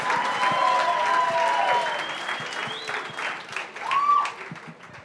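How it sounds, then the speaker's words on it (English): Audience applause for a presenter at a tech startup event, a steady wash of clapping swelling then tapering off, with voices and faint whistle-like tones mixed in. "Round of applause for my final presenter of the night, Ordo Nerd."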